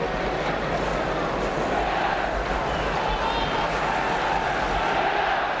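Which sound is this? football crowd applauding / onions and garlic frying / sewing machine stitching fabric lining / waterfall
football crowd applauding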